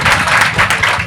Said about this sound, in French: C'est bon, applaudissez pour Papa OJ